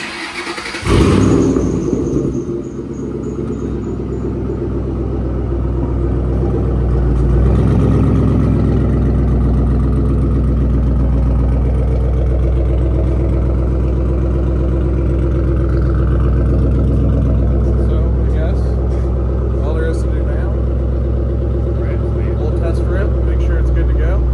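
A Ford Mustang engine cranks and catches with a loud burst, then settles into a steady, rumbling idle that runs close and continuous, with people talking over it at times.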